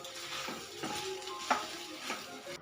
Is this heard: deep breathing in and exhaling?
no